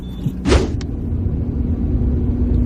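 A car on the road, heard from inside with a steady low rumble throughout and a brief whoosh near the start, like a passing vehicle or a window moving.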